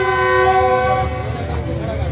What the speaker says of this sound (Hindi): अलार्म बज चुका है, घंटी बज चुकी है।